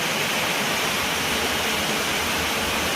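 Steady, dense rush of rainwater pouring through a shed roof, loud and unbroken.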